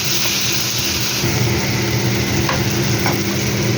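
Bhetki fish sautés in a pan, a loud close sizzle with a low rumbling undertone and occasional faint scrapes of stirring, no speech.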